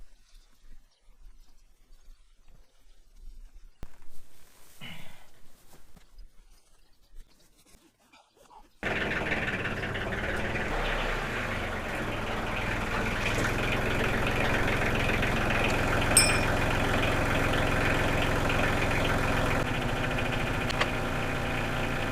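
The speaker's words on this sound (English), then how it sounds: "use the tractor and lift him up" Quiet rustling and a few knocks, then a heavy tractor engine starts up and runs steadily at a low idle rumble, fairly close and continuous.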